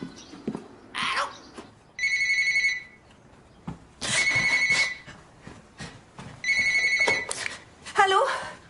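An old telephone bell rings in repeated bursts, three long trills spaced a couple of seconds apart, loud and close, with voices speaking between and around the rings.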